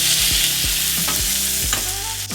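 Shrimp drop into a hot pan and hit the oil with a strong, continuous sizzle, punctuated by several quick thuds and clinks as they land, close and loud with no talking.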